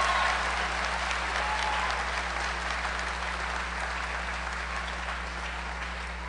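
Steady, sustained applause fills an auditorium as a graduating early childhood education class of 2018 is honored at a senior recognition ceremony, dense and even throughout with a faint hum underneath.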